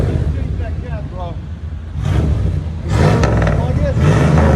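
A truck running a high flow catalytic converter idles with a low rumble, then two strong revs swell up loud and close, with casual talk heard over the engine early on.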